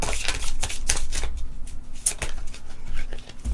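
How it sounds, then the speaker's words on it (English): Tarot cards are shuffled quickly by hand, giving a run of close, crisp riffling bursts and soft flutters with brief pauses between them. "Quick shuffle for a new bottom."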